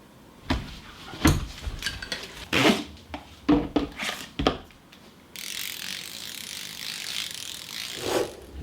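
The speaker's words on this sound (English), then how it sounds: "I'm gonna go and get ratchets which are actually ratcheting" Series of sharp metallic ratchet-wrench clicks in short bursts, several separate ratcheting runs, close and loud, followed by a steady hissing wash of noise near the end.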